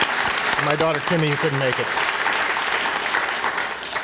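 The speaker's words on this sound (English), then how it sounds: "So maybe a little round of applause for Lindsay." An audience at a December 2005 oath of office ceremony claps for Lindsay, a dense wash of applause that carries through the whole stretch while someone speaks over it.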